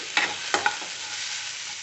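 Garlic, cumin, tamarind and salt are stirred into cooked ridge gourd in a pan, a few quick spoon scrapes over a steady, close sizzle.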